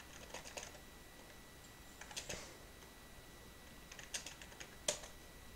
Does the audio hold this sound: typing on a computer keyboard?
yes